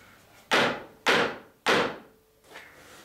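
Three sharp wooden knocks, evenly spaced about half a second apart, followed by a softer fourth tap as a wooden plank is tapped down into place on a clinker boat mould; close and with no speech.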